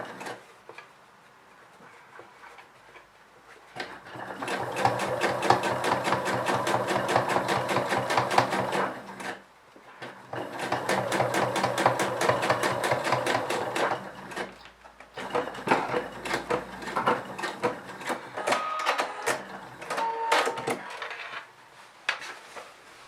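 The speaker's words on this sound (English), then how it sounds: "So I'm going to sew this fabric and backstitch in the beginning and the end." A sewing machine stitches denim for jeans in three bursts of rapid, even needle rattling, with short pauses between runs for backstitching at the start and end, near and clear.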